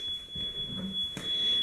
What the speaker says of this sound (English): That's our sump pump alarm.